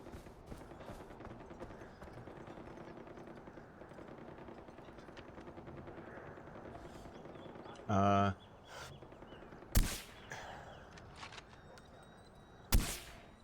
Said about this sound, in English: That sounds like celebratory gunfire.